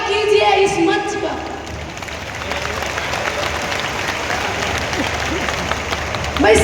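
A crowd at a political rally in Haryana claps steadily for several seconds, the applause loud and continuous, with a voice speaking over the start.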